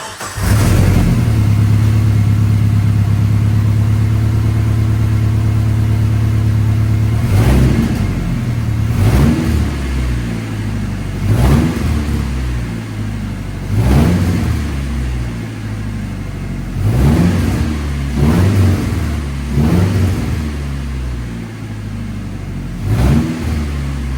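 A Jeep Wrangler engine with a new exhaust idles with a deep rumble, then is revved repeatedly in sharp bursts, each rising and falling back, close and loud.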